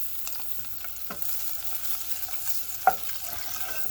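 Butter melting in a pan as the base for a cheesy onion and jalapeno sauce, giving a faint, steady sizzle with a few soft clicks and one brief louder tap near the end.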